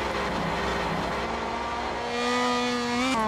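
Race car engine in the racing game Assetto Corsa, a South American touring-car mod, revving steadily with a rising harmonic whine that climbs sharply near the end, loud and continuous with no talk.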